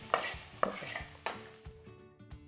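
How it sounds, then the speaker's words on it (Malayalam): Spice powders, garam masala and turmeric, being stirred into an okra curry frying on a low flame, with a few distinct scraping stirs over a soft, steady sizzle. "ഫ്ലെയിം നന്നായി താത്തി വെച്ചിട്ട് നന്നായി ഒന്ന് മിക്സ് ചെയ്ത് കൊടുക്കാം."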